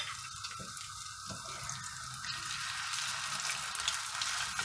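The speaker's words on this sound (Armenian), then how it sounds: "ձևավորում կոտլետանման տեսք, որ իրանք տապակվեն" Chopped chicken cutlets frying in a pan make a soft, continuous sizzle that grows slightly stronger toward the end, heard on its own without talk.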